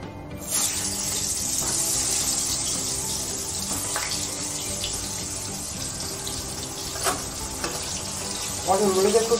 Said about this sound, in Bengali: পটলগুলোকে খুব সুন্দরভাবে ভেজে নিতে হবে, একদম লালচে করে।